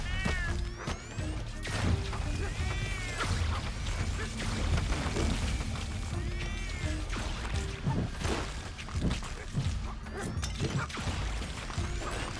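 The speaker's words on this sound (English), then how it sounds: "That's a cat. It's a super cat." Repeated cat meows from a video game, several cats calling over a steady dense background of game noise, crashes and thuds, with occasional talk.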